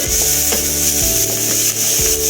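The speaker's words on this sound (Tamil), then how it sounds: "வெங்காயம் நம்ம பொன்னிறமாக வரம் வர வேக வைக்கணும்." Onions fry in a pan with ginger-garlic paste for cabbage chilli, giving a steady, loud sizzle throughout with rhythmic scraping stir strokes roughly every half second.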